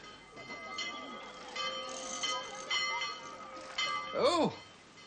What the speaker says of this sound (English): Oh, there's the prep bell, eh?